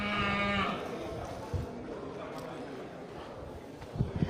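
Aceh cattle low and moo at a livestock market, with one drawn-out moo at the start and then a busy background of animal shuffling and crowd murmur.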